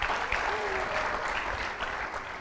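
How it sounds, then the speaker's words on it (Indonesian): A studio audience at a TV show applauds a finalist, a continuous dense wash of clapping that holds for a couple of seconds and then eases slightly. "Sekali lagi tepuk tangan untuk Bapak Hartrud Dewene."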